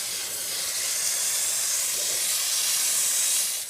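A steady, loud hiss of steam rushes out of a Chief Steamer 100 PSI steam cleaner's hose, releasing condensation, and holds constant for a few seconds before tapering off at the end.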